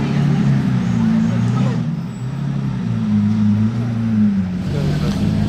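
A Lamborghini Aventador SVJ supercar idles and rumbles through a Monaco street at night, its deep engine note resonating steadily between buildings while people talk nearby.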